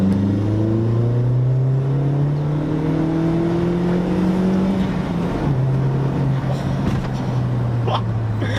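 A Mk4 with the 1.8-litre turbo engine pulls hard under boost, its loud, steady engine note climbing in pitch through a long rising sweep before a gear change drops it and it climbs again.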